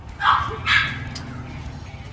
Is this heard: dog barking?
yes